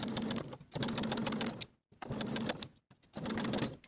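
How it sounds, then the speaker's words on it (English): A sewing machine stitches a pleat line on a kimono robe jacket in four quick bursts, each a few seconds of rapid rattling needle strokes separated by brief silences. "I'll sew from the top to the bottom of my line, backstitching at the end to secure."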